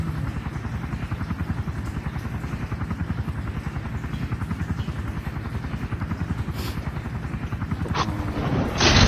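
Helicopter in the video game LifeAfter, with rapid, steady rotor chopping heard close and loud throughout, and a few sharp game effects near the end.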